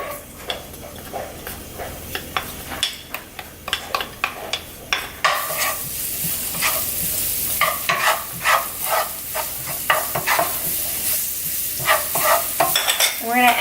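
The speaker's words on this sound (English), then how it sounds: "And now we're gonna add in our garlic." Garlic sizzles in about a tablespoon of oil in a pan, a bright steady frying hiss broken by frequent rhythmic scrapes and taps of a stirring utensil that grow busier and louder partway through.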